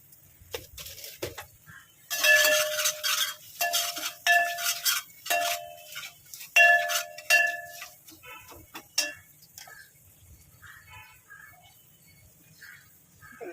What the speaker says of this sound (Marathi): त्यात मसाला टाकूया आपली थोडी थोडीशी लाल करून घ्यायची